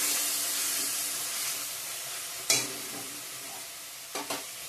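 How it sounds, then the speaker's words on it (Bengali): Fried potatoes are added to a sizzling pan of spices for a Bengali egg and potato curry and stirred. A continuous hiss is broken by a sharp clatter midway and two quick knocks near the end. "ভেজে রাখা আলুটা দিয়ে দেবো এখন।"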